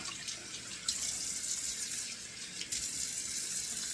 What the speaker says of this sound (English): a couple of splashes of cold water